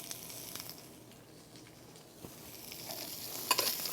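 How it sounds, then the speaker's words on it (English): Lobster sears in a hot sauté pan with a quiet, steady sizzle, punctuated by soft scraping and a few brighter clinks near the end. "You want to get your lobster in there. Get that nice searing motion going."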